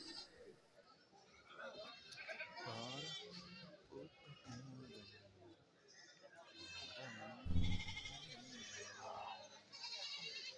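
Goats bleat repeatedly at a Kerala goat market, some of them tethered in a vehicle after being sold. The calls come close and overlapping, mixed with steady crowd chatter, and a louder thump sounds near the middle.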